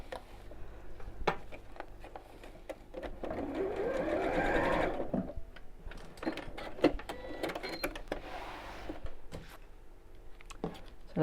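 Sewing machine stitching across frayed webbing on a child's backpack, a steady mechanical whir that runs in bursts with short pauses and soft handling clicks between runs.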